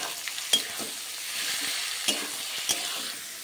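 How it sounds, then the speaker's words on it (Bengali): Boneless chicken pieces and vegetables sizzle in a hot pan, with a steady close frying hiss broken by a few sharp scrapes and clacks of stirring. "দিয়ে ভালো করে আবারও একসঙ্গে সবজির সঙ্গে আমি মিশিয়ে নেব"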